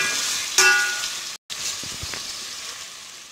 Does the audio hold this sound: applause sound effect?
no